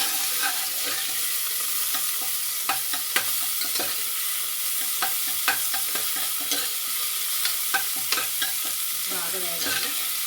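Green chilies, bay leaf and curry leaves sizzle in hot oil for Andhra-style tomato rice, a bright steady crackle broken by repeated scraping stirs of a spoon against the pan.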